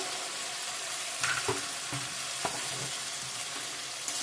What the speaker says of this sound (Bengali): একটু কষিয়ে নেবো ভালো করে খুব ভালো করে কষানো হয়েছে